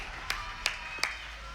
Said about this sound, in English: Even the players are applauding.